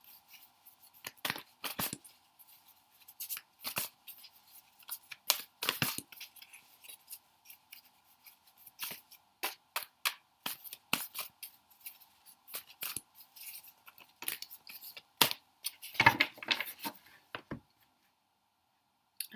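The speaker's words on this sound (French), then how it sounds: "Vous mélangez les cartes." Tarot cards being shuffled by hand, a run of crisp, quick slaps and riffles in irregular bursts, close and fairly quiet over a faint steady hum, with a few sharper snaps near the end.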